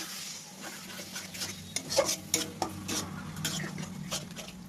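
Spices frying with cashew and poppy seed paste and Kashmiri red chili for a prawn curry, stirred in a pan with a soft sizzle, scraping spoon strokes and occasional clinks of utensil on metal.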